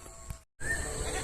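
A goat bleats in open rice-field countryside: a wavering, nasal call, then a short gap of silence followed by another bleat over faint outdoor background, fairly close and moderately loud.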